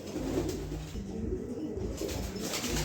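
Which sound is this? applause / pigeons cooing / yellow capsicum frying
pigeons cooing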